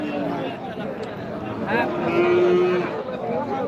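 Cattle low at a busy cow market in Dapunia Bazar, Mymensingh: a close, drawn-out moo swells in the middle over a background of crowd chatter and people talking.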